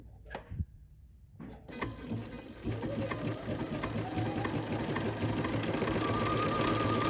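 A sewing machine runs steadily along the seam of a cowl neck tee, its fast, even stitching hum continuous and close after a couple of brief starts.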